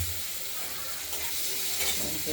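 Tomatoes dropped into a pan of frying rohu fish curry with potatoes, giving a steady close sizzle and hiss with faint stirring scrapes throughout.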